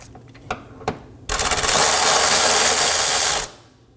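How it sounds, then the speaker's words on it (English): A ratchet wrench removing a 16mm fuel tank strap bolt on a 2015-2023 Nissan Maxima 3.5L V6: a few single clicks, then a loud, rapid two-second burst of ratcheting close up, stopping abruptly. "We're going to remove our front 16mm bolt for our other strap."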